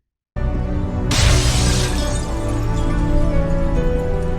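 A glass window shatters in a sudden loud crash as someone leaps through it in a film scene, with a burst of breaking glass followed by a sustained rumbling tail and debris.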